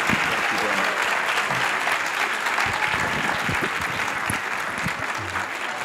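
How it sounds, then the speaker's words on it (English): A college audience applauding Michael Sam at an evening talk, steady dense clapping that fills the room for several seconds with faint voices mixed in. "So can we give a round of applause to Michael?"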